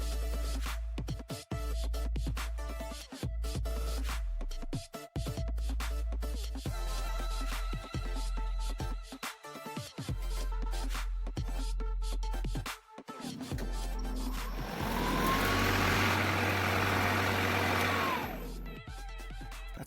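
A Kobalt 40V MAX self-propelled battery-electric lawn mower runs nearby with a steady electric motor whine and blade hum. Brief dips interrupt it, then a louder, rougher stretch of cutting noise follows near the end.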